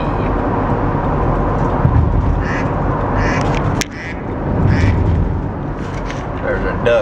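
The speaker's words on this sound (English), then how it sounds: "There's a duck in my iPhone." Duck quack text-message alert sounding from an iPhone, heard over continuous loud rumbling background noise, with a person talking around it.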